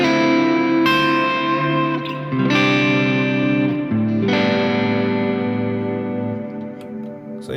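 Electric guitar through overdrive, delay and reverb plays a short sequence of sustained, distorted notes and chords, each ringing out with echoing repeats and a lingering reverberant tail, loud and alone.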